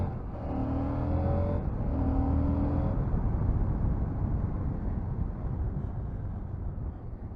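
A 2022 CFMOTO 800MT dual-purpose motorcycle on knobbly tyres carries its engine in 2nd gear into a bend, first with a steady droning tone that shifts in pitch, then with rough engine rumble and wind roar that gradually fade.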